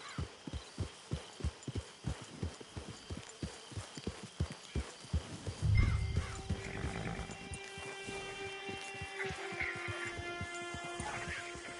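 Horse hooves clip-clop at a steady trot in the Western game Red Dead Redemption 2, a regular near rhythm that slows and gives way to ambient outdoor sounds and a low rumble midway.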